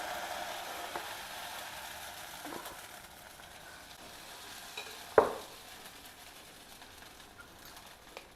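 Bun dosa cooks in a hot pan, with a steady soft sizzle running throughout and one brief sharp clink partway through, close and moderately loud.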